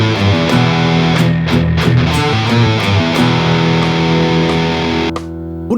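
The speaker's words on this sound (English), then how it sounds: "One of the most common scales you'll hear is the blues scale." Distorted electric guitar plays a heavy blues-scale riff, thick sustained low notes and quick picked runs, loud and continuous with no voices.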